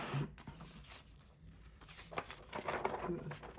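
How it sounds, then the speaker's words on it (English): Paper pages of a newly unboxed planner are turned and handled, giving quiet rustles, crinkles and soft flicks in irregular bursts, with a faint voice in the background. "You hear the paper quality."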